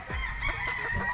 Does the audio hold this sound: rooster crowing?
yes